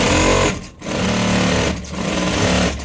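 A sewing machine stitching loose stitches in quick rhythmic runs, briefly pausing twice between bursts, loud and close.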